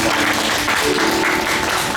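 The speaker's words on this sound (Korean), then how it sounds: "우리 하나님께 영광과 박수를 드리겠습니다." A church congregation applauds together at a Christmas Day Sunday service, a steady, dense clapping that fills the room for a couple of seconds with no voices over it.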